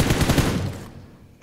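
A loud, close burst of rapid automatic gunfire in PUBG Mobile rattles for under a second, then cuts off and its echo tails away.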